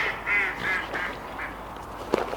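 Swans on the riverbank of the Great Ouse give a few nasal, honking calls at moderate distance, spaced out over quiet outdoor ambience, with a sharper call near the end.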